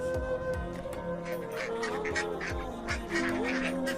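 Cartoon ducklings quack repeatedly by a pond, a busy overlapping chorus of honking quacks over a steady background music bed, fairly loud and near.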